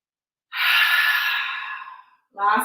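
During a midday yoga breathing exercise, a long, close, audible exhale out through the mouth trails off over about a second and a half, followed by the start of another breath.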